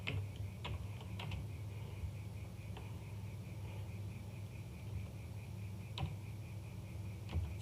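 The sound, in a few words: typing a name on a computer keyboard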